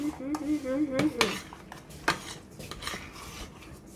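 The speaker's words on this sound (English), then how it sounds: "Stir some more." A spoon scrapes and clinks against a bowl while stirring Annie's mac and cheese, with a few sharp knocks and scraping strokes up close. A voice hums briefly at the start.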